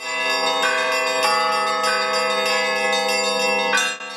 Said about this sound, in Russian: Колокольный звон с территории Иверского монастыря разносится на много километров.